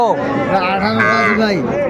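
A young Friesian heifer calf at a busy cattle market moos loudly and close by in one long, wavering call, with faint crowd chatter underneath.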